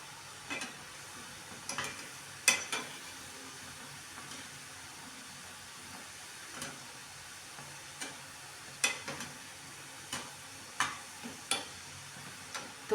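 Badusha pastries frying in medium-hot oil, a soft steady sizzle with scattered small pops and crackles, fairly quiet and with no one talking.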